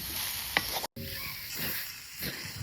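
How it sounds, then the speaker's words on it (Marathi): Boiled jackfruit pieces dropped into hot oil tempering, a soft sizzle with stirring scrapes and a brief cut of silence partway through, no voices. "अशा पद्धतीत मी आता ही भाजी फोडण्यात टाकलंय."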